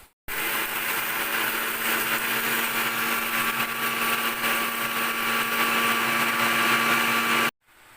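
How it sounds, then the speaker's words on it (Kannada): A mixer grinder grinds grated coconut and rice into powder, a loud steady motor whine running unbroken for about seven seconds, starting and stopping abruptly with no talking. "ಇದನ್ನೀಗ ನಾನು ಮಿಕ್ಸಿಯಲ್ಲಿ ಹುಡಿ ಮಾಡಿ ತಗೊಳ್ತೇನೆ"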